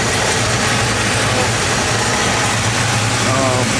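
A 1980 Chevy Caprice engine runs loudly and close, with a steady low rumble under a dense rushing whoosh of cooling fans gradually speeding up.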